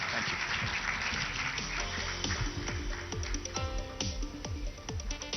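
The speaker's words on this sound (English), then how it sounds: "A round of applause for Mr. Mariwala." Audience applause after an on-stage conversation at an industry leaders' event, a steady wash of clapping with rhythmic thumps layered in, continuing for the full stretch without talk.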